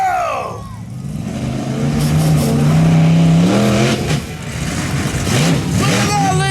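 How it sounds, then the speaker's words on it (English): The Swamp Thing monster truck revs hard and roars through a jump over parked cars at a monster truck show, its engine loud and rising, with a crowd and announcer voices under it. "Do you want to see this truck jump over the cars?"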